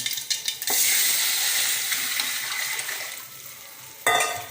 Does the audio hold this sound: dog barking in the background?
no